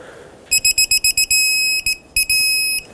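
A digital torque wrench beeps when it reaches target torque on a Toyota Camry knuckle bolt, a rapid series of short piercing electronic beeps running into a long held tone, then a few more short beeps and another long tone.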